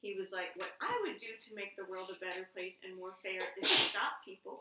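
A single sharp sneeze bursts out loudly near the end, following a stretch of someone speaking steadily.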